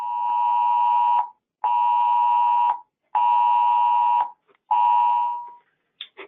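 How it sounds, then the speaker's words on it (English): A phone sounds a traffic alert: four long, loud, harsh electronic buzzing tones in a regular on-off pattern with short gaps between them, then a brief chirp at the end, with no talking. "all of a sudden you get that lovely annoying sound on your phone"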